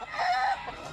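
A fighting rooster gives a short, loud call up close, a single raspy crow fragment with no talking.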